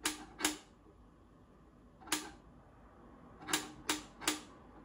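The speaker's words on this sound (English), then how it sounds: "When we hit the vibration sensor on the desk, it can generate the original signal." Six sharp, separate taps on a desk that strike a vibration sensor, two close together, then one alone, then a quick run of three, over a quiet background hum.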